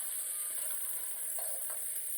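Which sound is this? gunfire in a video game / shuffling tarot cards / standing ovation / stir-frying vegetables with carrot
stir-frying vegetables with carrot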